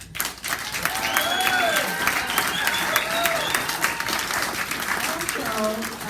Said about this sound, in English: So I want to have a big hand clap for you.